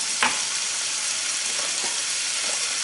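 Pork frying in a pan for a Thai pan-cooked egg dish, a steady close hiss of sizzling with faint stirring clicks, no talk.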